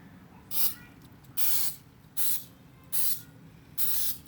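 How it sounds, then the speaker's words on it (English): Five short hissing bursts of an aerosol spray paint can spraying foam, evenly spaced about a second apart, close and fairly loud against quiet background. "Start spraying. Make sure the nozzle is away from you."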